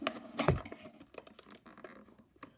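Faint scratchy clicks and soft crinkles come from cutting around a foil sticker on a figure's plastic bubble packaging, close up and irregular.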